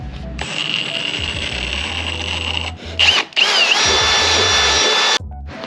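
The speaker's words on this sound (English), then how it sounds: "So this bigger one's gonna be drilled to 12 millimeters." Power drill boring a hole with a 12 mm bit during a console and footwell lighting install in a Type R, running loud and close in two long sustained bursts with a short pause and whine shift between them.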